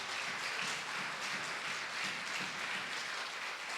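A church congregation applauding, a steady dense wash of many hands clapping together that holds at an even level throughout without pause.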